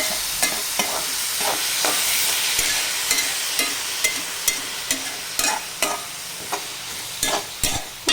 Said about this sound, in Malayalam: ഒരു രണ്ട് തക്കാളി കൊടുക്കാം എന്നിട്ട് ഇതൊന്ന് വഴറ്റാം